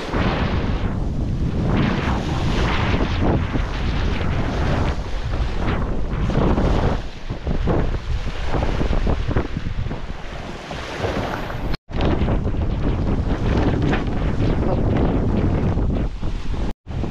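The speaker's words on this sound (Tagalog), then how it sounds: "Lakas ng agos." A strong water current rushes past in a loud, continuous roar, with wind buffeting the microphone throughout and two brief dropouts near the end; no one talks.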